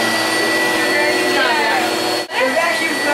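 A vacuum cleaner runs loud and close with a steady, dense roar that dips briefly for an instant before resuming at full strength.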